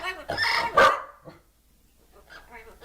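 Dogs kept at home bark in a couple of sharp, close bursts, followed by quieter chatter and voices in the background.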